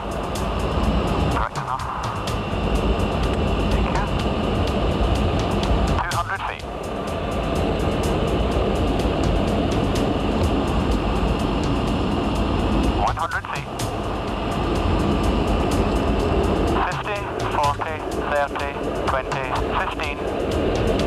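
A Concorde airliner descends to land nose-up, its engines a loud, steady broadband roar throughout, heard from inside with a few brief clunks and rattles and a voice speaking over the noise.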